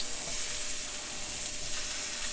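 Already-roasted sweet potatoes sizzle in a hot pan, a steady close hiss of frying that holds evenly throughout with no voices.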